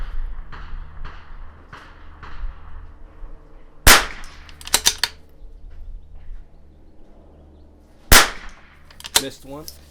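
Rifle shots at targets on an outdoor shooting range during an NRL22 course-of-fire match, with two sharp, loud cracks several seconds apart, each followed by faint echoes or target hits, over low background noise.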